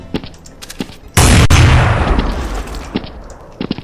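Gunfire in the video game Counter-Strike: Source after a jump and crouch: one sharp, loud blast with a booming tail that fades over about a second, with faint clicks before and after.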